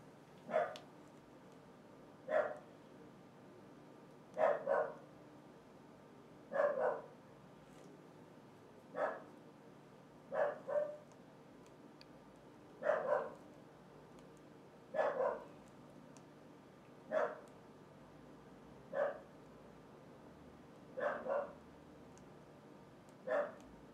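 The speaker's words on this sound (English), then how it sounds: "That's my little dog." Small dog barking in an indoor painting session setting, about a dozen short, sharp yips repeated at a steady pace of one every couple of seconds, fairly faint against a quiet room.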